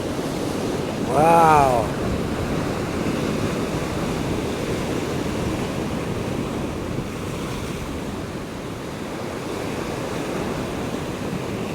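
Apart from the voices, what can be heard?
ocean waves crashing at Peggy's Cove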